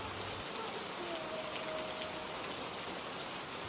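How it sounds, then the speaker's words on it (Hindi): Heavy rain falls outside, a constant hissing wash at fairly low level with no clear breaks, running evenly for a few seconds. "बाहर बारिश पहले से भी तेज हो चुकी थी।"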